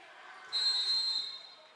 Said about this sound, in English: And now a whistle.